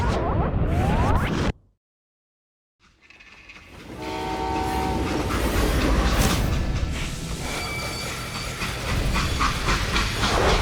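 Steam train in a Wild West shooter game: a loud hissing rush and rumble, broken by a brief silent gap, then a sustained whistle-like tonal blast over clattering rolling noise.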